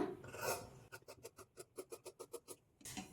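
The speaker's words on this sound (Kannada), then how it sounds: "ಈಗ ಈ ಪ್ರಿನ್ಸಸ್ ಕಟ್ ಪಾರ್ಟನ್ನು ಕಟ್ ಮಾಡ್ಕೊಳ್ಳೋಣ" Scissors snipping princess-cut blouse fabric, a quick series of about ten rhythmic, crisp cuts up close, with rustling of cloth before and after, no talk.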